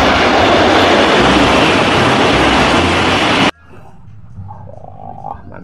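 A loud whooshing train roar from a toy rushes steadily for a few seconds, then cuts off abruptly, leaving faint background sounds.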